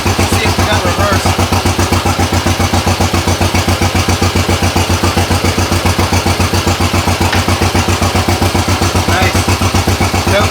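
A tracked vehicle's newly rebuilt engine runs loud and close in a steady, fast pulsing rumble, throbbing evenly without a break as it is shifted into reverse.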